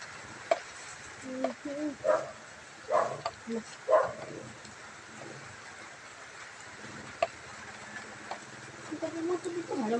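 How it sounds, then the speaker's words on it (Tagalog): A dog barks in a few short bursts at moderate distance during rainfall, with people talking nearby and steady rain noise underneath. "Ano, may aso."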